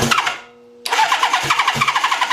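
A 1000cc engine cranks over, pauses briefly, then catches and sputters with a rapid uneven pulsing, close and fairly loud with no voices.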